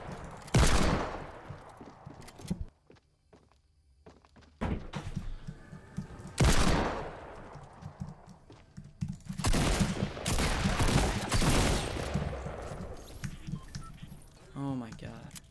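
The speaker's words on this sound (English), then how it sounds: "Shotgun." Shotgun blasts in a video game, several sharp loud bursts spaced a few seconds apart with reverberant tails, while players talk excitedly between and over the shots.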